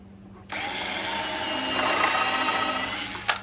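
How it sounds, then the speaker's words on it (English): Power drill driving a screw into wood while building a wooden fruit stand: one continuous, close, loud whir lasting about three seconds that starts abruptly and ends with a short click, with no talking. "I am gonna put 2 screws in"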